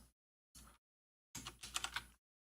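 Computer keyboard keys are pressed in short separate bursts, one click near the start and another at about half a second, then a quick run of several taps, with silence between.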